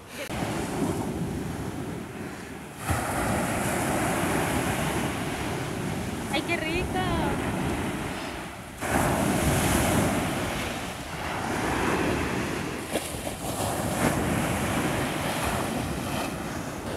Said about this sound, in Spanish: Y más con esta agua, más con este oleaje